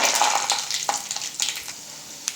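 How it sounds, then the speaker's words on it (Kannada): Peanuts frying in hot oil with mustard seeds and cumin, a bright continuous sizzle close by with scattered small pops and occasional scrapes of stirring. "ಈಗ ಶೇಂಗಾ ಬೀಜ ಫ್ರೈ ಆಗ್ತಾ ಇದೆ"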